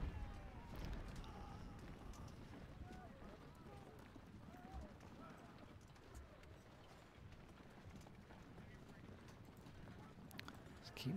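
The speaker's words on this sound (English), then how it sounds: "let's send the horses out on this open ground to have a scout around" Cavalry horses move across open ground in the Civil War strategy game Ultimate General: Civil War, hooves clip-clopping at a run in a soft, steady rumble under a faint low background.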